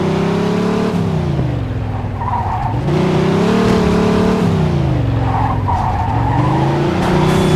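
Car in Mafia II driving hard with tires skidding and squealing over a loud continuous engine, the revs rising and falling several times. No impact is clearly heard.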